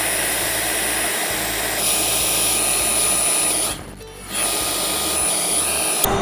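CNC router spindle with a V-bit engraving a sign, a loud continuous close whine and roar that dips briefly for a moment before resuming.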